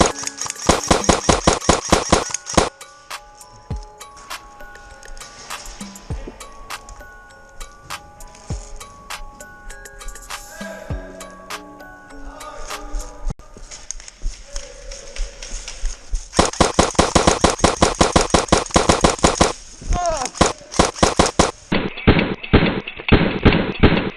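Airsoft replica guns firing during an indoor close-quarters game at CQB City in Stockton, California, with sharp, rapid bursts of shots near the start and again toward the end, and sparser cracks and knocks in between.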